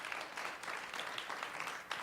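A seated audience claps at a civic gathering, a soft, distant, continuous patter of many hands with no voices over it.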